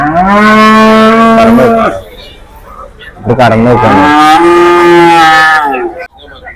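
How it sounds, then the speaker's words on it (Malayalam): Cows in a dairy herd, milking cattle that include a Holstein Friesian (HF) calf, moo loudly on a farm. Two long, close, drawn-out calls follow one another, with brief speech between them. "അടിപൊളി നല്ല കറവ പശുക്കള്"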